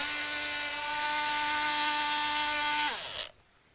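An Aris wallpaper cutter trimming wallpaper gives a steady, close, high motor whine for about three seconds, then winds down and stops abruptly, leaving near silence.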